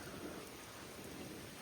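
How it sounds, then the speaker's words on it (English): Steady broadband hiss of hard rain during a thunderstorm with low rumbles of thunder, continuous and fairly faint, with no voices. "it's raining hardly and thundering"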